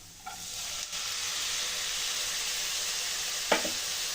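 Carrot frying in a pan for payasam, a steady soft sizzle and hiss broken by a couple of quick stirring scrapes, close by and fairly quiet.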